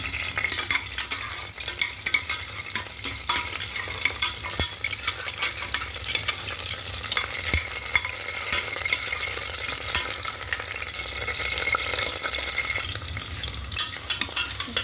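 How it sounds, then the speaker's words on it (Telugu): Green chillies sizzle and fry steadily in a pan, a continuous close crackling hiss with occasional stirring scrapes and no voices. "పచ్చిమిరపకాయలు వేగుతాయి."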